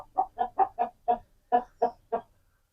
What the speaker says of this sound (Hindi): ये उसकी माँ है, माशाल्लाह घर की पट्टी है, बहुत ही अच्छी मुर्गी है